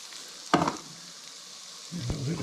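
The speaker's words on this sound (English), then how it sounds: "get some potatoes in the pan" Potatoes frying in a pan give off a soft, low sizzle, with a sharp clatter early on and a stirring scrape near the end, close and fairly quiet.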